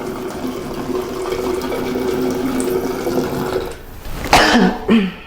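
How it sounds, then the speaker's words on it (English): Dermalogica powder cleanser being lathered with a little water into foam, a steady wet rubbing and running-water wash under the hands, ending in a couple of louder splashy bursts near the close; no talk. "you're supposed to just put a little bit of water, and then it should foam up"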